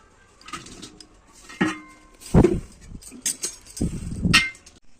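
Rice tipped into a home kitchen biryani pot of oil for chicken dum biryani, giving a few separate clinks and clattering rattles of grains and utensils against the metal pot, close by, with quiet pauses between bursts.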